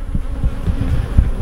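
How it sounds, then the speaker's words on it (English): Honey bees buzz steadily around an open beehive during queen introduction, a close, continuous drone with a few louder swells as individual bees pass near. "the bees, they're already getting very interested in me"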